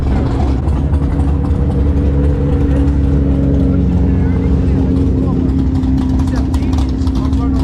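A Corvette rolls in at a drag strip, its engine a steady, loud, continuous rumble with a sustained low hum throughout, close and unbroken.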